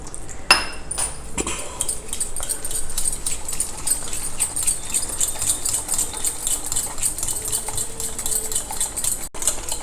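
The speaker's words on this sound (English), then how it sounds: "So we will just mix all these ingredients into a thick batter, like idli batter it should be" A spoon beats ingredients into a thick batter in a bowl, a rapid, steady run of close clinking and scraping against the sides, continuing without a break and with no talking.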